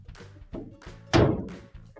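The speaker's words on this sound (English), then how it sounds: "Now we can close our dryer door." The door of a GE gas dryer shuts with a single solid thunk, preceded by a few soft handling knocks.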